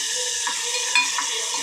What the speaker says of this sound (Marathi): आता मी फोडणीला टॅमॅटो टाकणार आहे